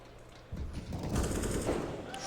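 AK rifle gunfire in a Counter-Strike match during a BLAST Premier grand final, a short burst of loud, sharp shots over a steady background.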